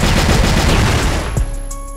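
A rapid burst of automatic gunfire in a shooter video game rattles loudly for over a second, then cuts off to a quieter ringing tail.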